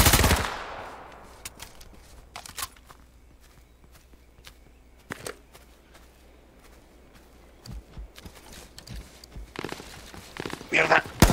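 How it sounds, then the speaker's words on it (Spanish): Gunfire in the online battle game H1Z1 on PS4, with scattered sharp shots and short bursts rising near the end, mixed with footsteps and a loud close burst at the start. "acá me están disparando"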